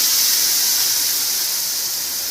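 Blended paste for a paneer butter curry poured into a hot pan, giving a loud, continuous, bright sizzle and hiss that stays steady throughout.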